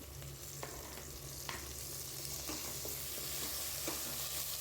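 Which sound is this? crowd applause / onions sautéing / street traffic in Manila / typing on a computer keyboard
onions sautéing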